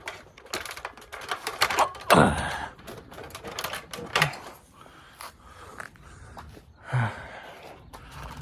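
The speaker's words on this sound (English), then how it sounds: "And we move the ladder." A ladder is shifted against a house wall during flashing repair, giving a few scattered knocks and scrapes, with sharper clatters near the start, middle and end. No one speaks.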